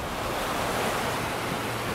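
Ocean waves wash in at Newport Beach, a steady close roar of surf with wind noise across the microphone, no voices.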